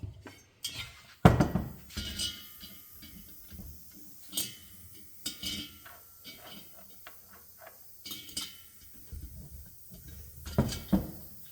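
Valve spring retainers are fitted onto a Porsche 912 cylinder head, making sharp, scattered metallic clicks and clinks with quiet gaps between them, alongside some talking.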